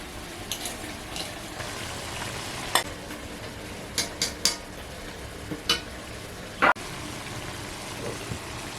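Tilapia fish fry in oil with water spinach in a pan, giving a steady soft sizzle throughout, broken by several sharp clatters and clicks of stirring, one louder knock near the end.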